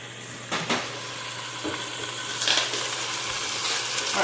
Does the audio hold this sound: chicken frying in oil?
yes